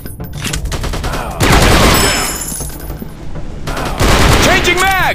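Sustained automatic gunfire from a robot-themed first-person shooter game, loud dense bursts with metallic clatter and a brief lull, then renewed firing with zipping ricochet-like tones near the end.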